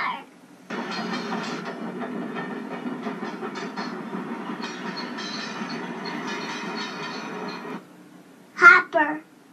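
A toy freight train rolls along its track with a continuous rattling, clattering run for about seven seconds, then stops abruptly, followed by a short burst of a voice.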